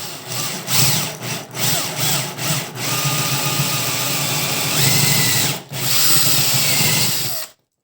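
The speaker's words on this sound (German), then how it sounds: "Wir bohren uns jetzt mal die Löcher." A power drill bores holes freehand into wood for a homemade saw-blade sharpening jig, running loud and close in several short bursts at first, then in longer continuous runs with brief pauses between.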